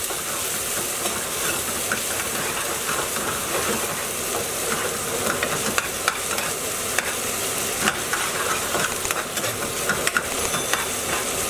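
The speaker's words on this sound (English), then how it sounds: "This always needs to be cooked out just enough to get the maximum flavour from it and reduce the acidity" Tomato paste sizzles steadily in a hot pan for chicken jalfrezi, with a constant frying hiss and scattered scraping stirs, close and fairly loud without any voices.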